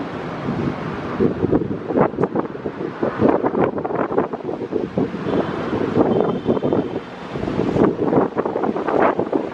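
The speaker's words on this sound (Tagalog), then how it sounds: "Mahangin." Gusty wind on a balcony buffets the microphone in a steady, rushing roar, rising and falling in loud waves with no voices heard.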